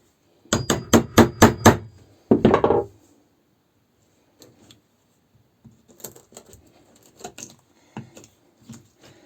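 Sharp hammer blows drive a chisel into wood while shaping a nut for a homemade Moxon vice: a rapid burst of five loud strikes, a scraping rasp, then a pause and a scatter of quieter, irregular taps.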